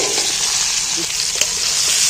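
Loud, continuous crackling sizzle of amla (Indian gooseberry) frying in hot oil for pickle, with light stirring sounds throughout. No voices.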